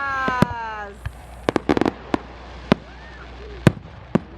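Fourth of July fireworks in New Jersey, a string of sharp cracking bangs at irregular intervals, some close and loud, with a rising whistle early on and people talking in the background.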